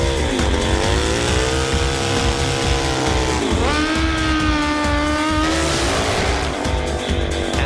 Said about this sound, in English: This is a gas-powered pro stock drag motorcycle.